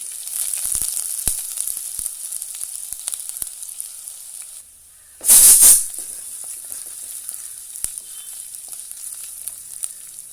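Crushed garlic and ginger added to hot oil with fenugreek, giving a brief loud burst of sizzling after a quiet moment, then a steady faint fry with scattered ticks and pops.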